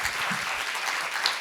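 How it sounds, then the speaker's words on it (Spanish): Strong applause from an audience for panel guests at a religion seminar, a dense, even patter of many hands clapping close and steady throughout the short moment. "Un fuerte aplauso a nuestros invitados."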